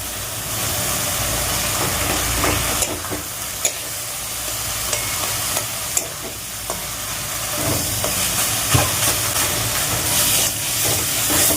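Crushed fish mixed with spice paste sautés in oil, a steady close sizzle with frequent stirring scrapes and clinks running throughout.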